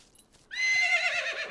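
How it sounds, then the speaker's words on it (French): A horse whinnies in a stable, a loud drawn-out neigh that rises then trails off over about a second, following a brief quiet stretch with faint shuffling. "Jonas, dans l'écurie, il y a un petit cheval"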